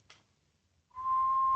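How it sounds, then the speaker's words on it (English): A short, thin whistling sound effect starts after a brief tap and a pause, then holds as one steady, clear tone to the end of the clip. "the little whistling"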